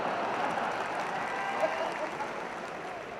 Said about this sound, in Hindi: ताली अपने आप ठोकेगी, देखो।